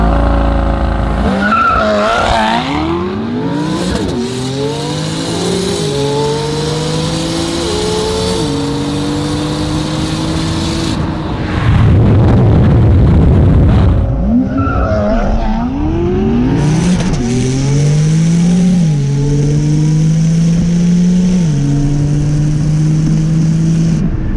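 A 1300 hp Ford GT500 launches in a street race, tires squealing as the engine revs climb through repeated gear changes, loud and close, with another roaring burst mid-run.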